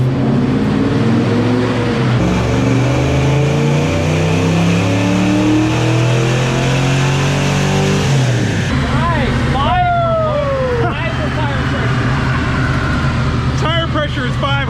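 A Ford 302 V8 with Trick Flow heads, cam and intake revving hard on a chassis dyno, a loud sustained climb through the gears that peaks around eight seconds, then drops to a lower roar with whining decel and fading revs.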